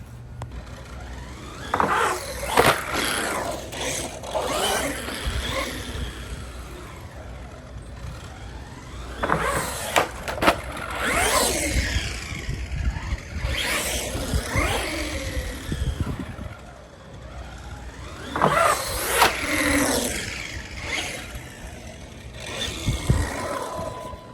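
An RC car drives and lands jumps outdoors, its motor whining in rising and falling bursts with bumps and clatter from the landings, loud and close throughout with no talk.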